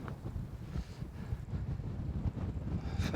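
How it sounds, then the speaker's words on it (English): Strong wind gusting across the exposed summit of Christianbury, a loud continuous low roar buffeting the microphone with rising and falling gusts and no talk. "it's fairly blowy on the tops"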